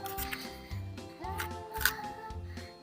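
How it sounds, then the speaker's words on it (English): Several quiet snips and crisp cutting sounds from scissors slicing through stiff plastic, spaced irregularly at close range. "Then you cut out your individual claws using your scissors."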